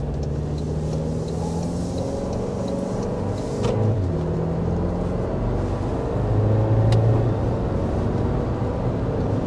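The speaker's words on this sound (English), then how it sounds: "All right, and we're speeding up to 55." A 2024 Toyota Land Cruiser 1958 on road tires accelerates along a road, heard from inside the cabin as a steady engine drone with tire and road rumble that rises slightly as it speeds up.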